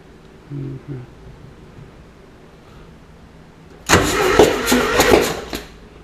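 A Subaru engine fitted in a Super Beetle cranks loudly and close for about two seconds in a rapid, churning rhythm, following a quiet stretch with faint background noise.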